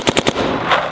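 A DLX Luxe X paintball marker fires a quick burst of three sharp, close shots, then a lingering hiss of air and echo fades after them.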